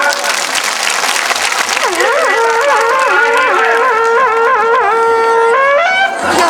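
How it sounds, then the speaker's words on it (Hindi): A crowd claps loudly and continuously in welcome, with a prominent voice rising and falling over the clapping. "कहीं ताली बजा के स्वागत करेगा।"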